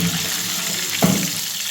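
Chicken wings deep-frying in oil, giving a steady bubbling hiss with one brief louder spatter midway.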